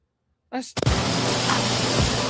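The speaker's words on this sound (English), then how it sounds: "That's the sound of fish frying for a sandwich that people wait hours to get their hands on." Steady loud sizzling and crackling of fish frying in hot oil, a continuous hiss that begins abruptly and fills the clip.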